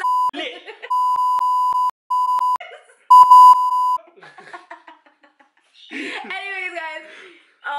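Censor bleeps in a kids' Q&A, a loud steady 1 kHz tone repeated in several blocks over speech, followed by people chuckling and laughing.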